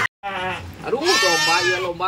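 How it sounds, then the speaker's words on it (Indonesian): Bleating of a goat or sheep, close and loud, with rising and falling harmonic cries that run almost without a break after a short silence. "Kayak domba orokan kemari"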